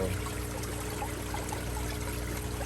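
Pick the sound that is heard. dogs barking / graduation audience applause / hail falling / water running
water running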